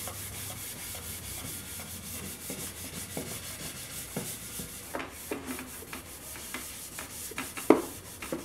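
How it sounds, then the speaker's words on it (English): A poplar bread box is hand-sanded with 320 grit sandpaper, giving soft, close rasping strokes in a steady back-and-forth rhythm, fairly quiet, with a few sharper scuffs near the end. "I've already sanded it with this up to 220, so now I'm just going to go over it with that 320 and just get it more smooth"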